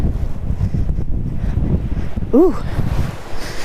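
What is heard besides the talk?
wind at abandoned rural airport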